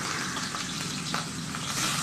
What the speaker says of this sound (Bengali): প্রথমে তেল দিয়েছি, তেল গরম হয়ে গেছে। এবার মাছগুলো আস্তে আস্তে করে ছেড়ে দেবো।